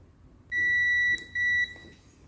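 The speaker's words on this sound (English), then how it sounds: "let's check multimeter with diode and continuity test" Two sharp, clear beeps come from a multimeter continuity test, the first about two-thirds of a second long and the second slightly shorter, close and loud against a quiet background.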